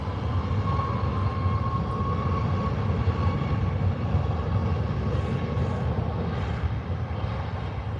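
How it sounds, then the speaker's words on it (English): A WestJet Boeing 737 MAX airliner passes at Calgary airport, its engines a steady broad roar that holds evenly for several seconds, fairly loud and continuous with no voices. "Here goes 737 Max for WestJet."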